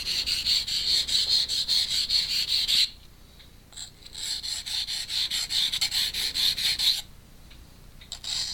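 A KBar Warthog knife is stroked back and forth on a sharpener, a close, loud rasping rub that repeats in rapid even strokes, pauses for about a second, then resumes with another run of strokes.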